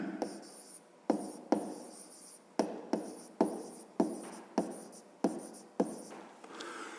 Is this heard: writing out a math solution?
yes